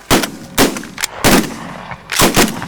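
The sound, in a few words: shotgun shots while hunting waterfowl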